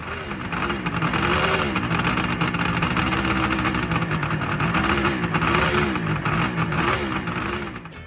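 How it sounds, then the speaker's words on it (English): A 1972 air-cooled two-stroke three-cylinder motorcycle engine accelerates with a loud, buzzing drone whose pitch climbs and dips in repeated surges throughout. "The air-cooled three-cylinder engine would surge forward with violent acceleration."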